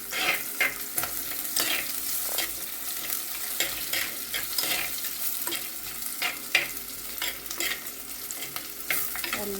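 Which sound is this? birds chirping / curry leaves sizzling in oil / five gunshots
curry leaves sizzling in oil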